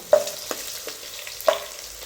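Green chillies fry in a pan for masoor dal, a soft sizzle under a few sharp spoon taps and scrapes that come close and clear, roughly three distinct knocks over two seconds, with no voices.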